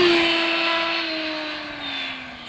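Arrma Infraction XLX RC car making a high-speed flyby, a strong steady electric motor whine with a falling pitch as it passes and recedes, with no talk.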